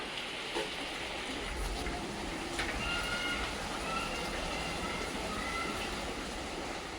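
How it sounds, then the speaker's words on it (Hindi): Heavy rain pours outside in a steady, dense hiss with scattered drips and patters, heard continuously from indoors with no one speaking. "बाहर इतनी ज़ोर की बारिश हो रही है इस टाइम पे।"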